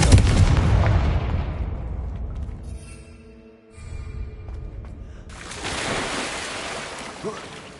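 A Confringo spell blast in Hogwarts Legacy bursts loudly with a broad roar, fades into a quieter tonal hum, then swells again into a second rumbling rush.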